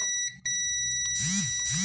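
A multimeter continuity buzzer tests the power supply fuse of a dead Samsung TV. It gives a steady, shrill electronic beep, brief at first, then held continuously, with a faint clatter of probes nearby.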